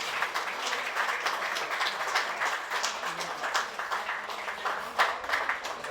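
A large audience claps and applauds steadily at a tribute event for soldiers, a dense continuous wash of hand claps with a few sharper bursts, no talk.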